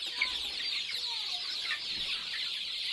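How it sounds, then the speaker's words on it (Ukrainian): Naked neck chickens and a rooster cluck in a village poultry yard, a continuous busy chorus of close clucking and chatter. "А зараз покажу минулорічного півника голошиєчного"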